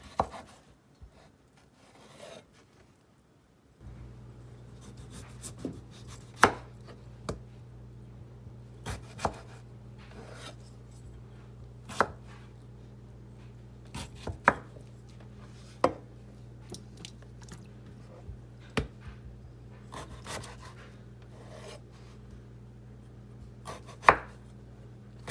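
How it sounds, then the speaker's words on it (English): A knife chopping potatoes into medium cubes on a board: a steady series of crisp, close, separate knife strikes spread over nearly half a minute, irregularly spaced over a low background hum. "now that we've cut in all of our potatoes"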